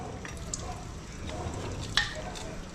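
Garlic, onion and ginger sautéing in a pan for a pesang dalag dish, giving a steady soft sizzle with faint stirring clinks and one brief sharper scrape near the end.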